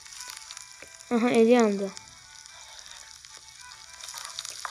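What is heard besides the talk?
chopped onions frying in a pan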